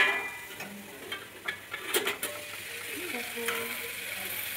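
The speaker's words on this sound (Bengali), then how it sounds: "আলু আর ফুলকপি ভাজা করছি" Potato and cauliflower fry in a pan with a soft, steady sizzle, broken by a few sharp utensil clinks and scrapes near the start, fairly quiet overall.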